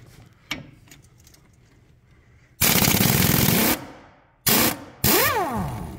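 A power impact tool loosens bolts on a removed wheel, firing off loud, close bursts of rapid hammering clatter. One long burst follows earlier faint knocks, then two shorter bursts, the last winding down with a falling whine.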